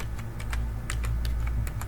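Fast, close key clicks from a computer keyboard as a search word is typed, a quick string of taps over a steady low hum, with no talking.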